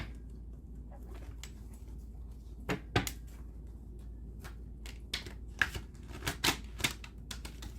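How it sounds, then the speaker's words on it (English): Tarot cards are riffled and tapped in quick irregular bursts of sharp clicks, close by against a quiet room hum. "Let me give it another shuffle."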